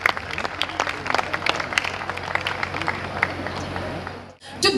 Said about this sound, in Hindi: So एक बार जोरदार तालियां हो जाए हमारे इन एंकर्स के लिए।